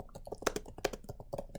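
Keys clatter on a computer keyboard in a quick irregular burst of close, crisp taps with no voices.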